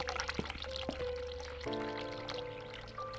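Tap water runs steadily in The Cat Lady, a continuous broadband splash and pour that changes tone partway through as the faucet is adjusted, with a low steady hum and faint tonal background music underneath.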